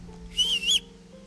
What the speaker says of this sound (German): Ich kann pfeifen.